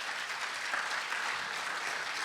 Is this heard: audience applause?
yes